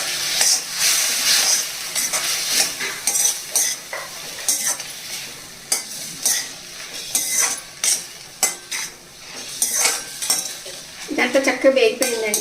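Chutney ingredients, including tomato and coriander, are roasted in a pan and stirred repeatedly; a utensil scrapes and clinks against the metal in uneven strokes over a soft sizzle, with a brief voice near the end.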